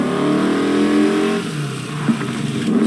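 A car engine revs hard and climbs in pitch in the Need for Speed Heat racing game, then eases off to a lower idle-like drone before picking up again, loud and close with no voices over it.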